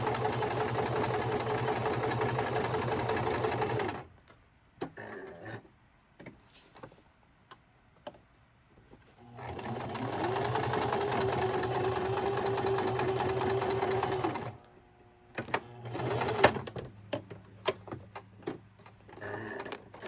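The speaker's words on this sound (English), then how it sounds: "I'm loving this new sewing machine because this one has all these little swirly, wavy kind of stitching." A domestic sewing machine stitching decorative swirly and wavy patterns on junk journal pages, with two long runs of close, steady mechanical whirring separated by quiet pauses full of small clicks and handling taps.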